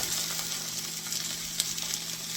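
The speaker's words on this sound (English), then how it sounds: "we're going to go ahead and get our onions in there" Onions in a hot pan give a steady, faint sizzle and crackle throughout, with a low hum underneath and no talking.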